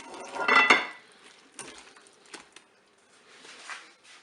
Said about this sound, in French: Je vais maintenant verser le contenu de ma cuve dans un plat qui va au four.